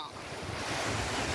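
Large ocean waves surge and crash onto a rocky shore at Sukabumi, West Java, a steady broad roar of surf mixed with strong wind buffeting the microphone, building slightly louder over the short stretch.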